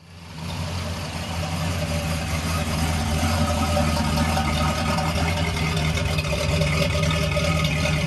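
Steady, deep rumbling idle of a Pontiac Trans Am muscle car, loud and close, holding an even low throb without revving throughout.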